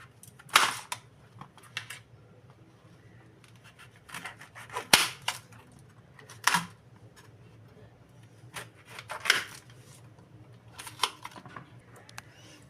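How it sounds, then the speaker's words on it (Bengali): A knife chops pointed gourd (potol) into chunks with scattered, irregular sharp clicks and cuts, close up, separated by quiet gaps. "এবার আমি ডুমো ডুমো করে পটলগুলোকে ছাড়িয়ে"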